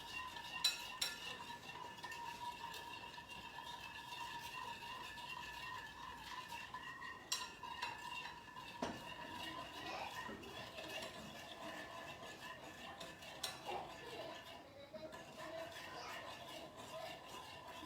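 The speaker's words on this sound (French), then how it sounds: "maintenant je remue à feu fort jusqu'à ce que le sucre disparaisse" A sugar mixture is stirred constantly in a pan over high heat for sushi rice seasoning, with a spoon scraping and clinking against the pan in steady repeated strokes, close and moderately quiet, with no voices.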